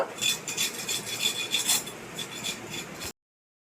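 A snake gourd (chichinga) being peeled with a knife, giving a steady run of dry, close scraping strokes for about three seconds before it stops abruptly.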